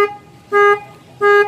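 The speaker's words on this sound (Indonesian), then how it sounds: "Di sini alarmnya sudah dibuat suara klakson ya." A Honda Scoopy Fi motorcycle alarm rigged to sound its horn gives two loud, evenly spaced horn blasts, each about a quarter second long, over a quiet background.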